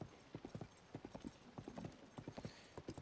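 Horse hooves clip-clop steadily in a video game, ridden across open ground near a bridge, the rhythmic hoofbeats clear and close with a faint snort-like breath.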